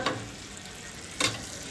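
Mandeli fish fries in a pan with a constant hiss and sizzle. Two brief scraping bursts stand out near the start and again toward the end.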